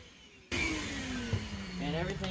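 Vacuum cleaner switching on abruptly to clean an engine bay after a head gasket install on a Gen 2 LT1 swap, a loud, steady whine close by with a shifting tone and a brief knock.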